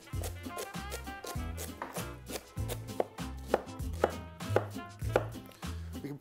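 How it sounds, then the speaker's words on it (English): A knife chops vegetables on a cutting board for chicken stock, a run of quick, close, evenly spaced thuds continuing for several seconds, with no talking. "We're just going to give a big chop."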